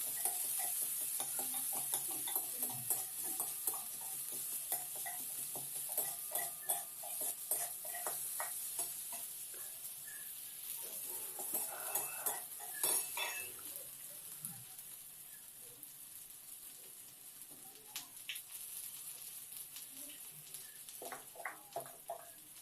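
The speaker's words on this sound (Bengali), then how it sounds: "পেঁয়াজটাকে ভালো করে ভাজবো, নাড়াচাড়া করে ভালো করে ভেজে লাল লাল করে নেব" Onions fry in a wok over a cumin tempering and are stirred repeatedly. A soft, low sizzle runs under frequent light clinks and scrapes of the spoon, with no talking.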